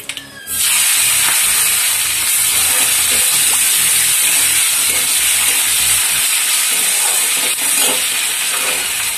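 Panch phoron spices and chopped tomato frying in a pan, a loud, steady hiss of sizzling oil running almost continuously after a brief quiet start, with faint clinks of stirring.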